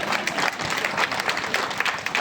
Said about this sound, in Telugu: చప్పట్లు కొట్టనమ్మా.